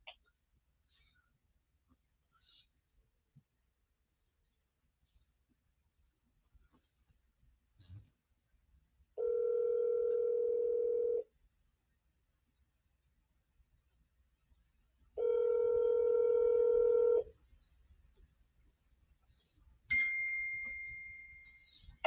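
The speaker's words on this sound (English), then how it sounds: "Calling Angie Milanazzo, mobile." A mobile phone ringback tone after a call placed through Siri: two steady, evenly spaced two-second rings in a quiet room, with a faint beep and a short tone at the end.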